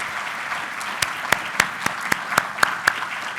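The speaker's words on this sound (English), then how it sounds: "would you give him a round of applause" Audience applause at a university faculty senate meeting, a steady patter of clapping with a few sharper, louder claps standing out, moderately distant and sustained throughout.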